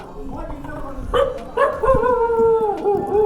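A dog lets out a short run of yips and howling barks, close and fairly loud, during a stop with a Kawasaki Z900 motorcycle, while a voice speaks over it.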